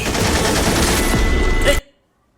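Rapid gunfire from a scene in the Shakib Khan action movie Prince, a loud, dense burst of machine-gun-like shots that runs for under two seconds and stops abruptly into silence.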